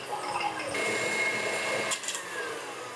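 An electric mixer creams butter and brown sugar for double chocolate cookies, giving a steady close whirring motor hum with a brief rattle near the end.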